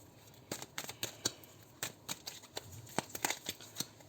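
Quick papery flicks and riffles of cards being shuffled, a rapid irregular series of soft snaps, fairly quiet and close.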